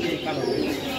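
Local domestic pigeons cooing at close range among a rooftop flock, a short, loud burst of low throaty calls with people talking over it.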